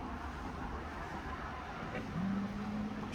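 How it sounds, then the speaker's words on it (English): Steady traffic rumble from cars on the street crossing the Loch Raven Reservoir bridge, a continuous low drone with one vehicle growing slightly louder near the end, heard from a wooded trail some distance off. "I can hear the cars"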